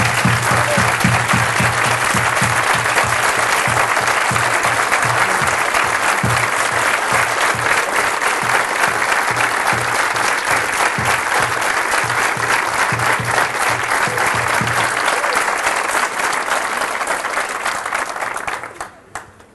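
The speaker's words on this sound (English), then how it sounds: "I think they deserve a big applause" Loud, sustained applause from a large audience honoring Nobel physics laureates François Englert and Peter Higgs at CERN, dense continuous clapping that holds for many seconds before fading out at the end.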